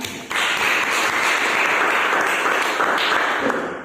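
A classroom of students claps together in a dense, even burst of applause that starts abruptly and holds steady at close range.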